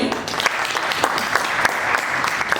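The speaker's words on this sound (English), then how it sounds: "Let us clap for him." Audience at a graduation ceremony clapping steadily, a dense patter of hands that holds at an even level for a few seconds with no voices over it.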